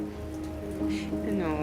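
Rain falls in the video game South of the Circle, a steady soft patter throughout the short stretch with some faint tonal ambience underneath.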